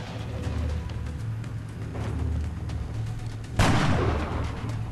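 Gunfire in XCOM: Enemy Unknown, a single sharp shot bursting out near the end over a steady low rumble of game ambience, with scattered faint clicks before it.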